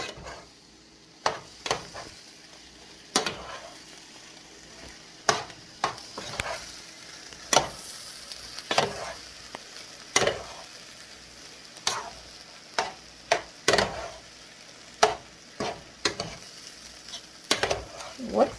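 Ingredients are stirred and scraped in a frying pan over a steady low sizzle, with sharp utensil knocks against the pan every second or so, close and clear, and no one speaks.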